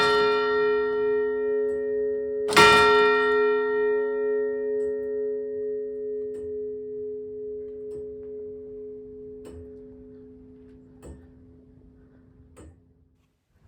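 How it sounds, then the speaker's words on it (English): The clockwork of two church clocks in the roof of Covent Garden's Actor's Church ticks and clunks with faint clicks at uneven intervals, after one loud nearby bell strike that rings on and slowly dies away. "the only sound you can hear being the mechanics of the 2 clocks,"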